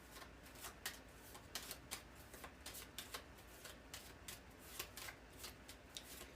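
A deck of cards is shuffled and drawn from in a soft, close riffle of rapid papery flicks and snaps, with brief pauses between bursts and no voices.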